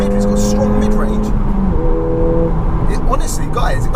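A Ford Fiesta ST on the road revs toward 6,500 rpm, its engine tone rising in steady harmonic sweeps under someone talking over it inside the car.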